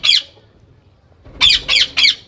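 A ring-necked parakeet gives one harsh, close squawk, falls silent, then lets out three more in quick succession, loud and shrill with nothing else around.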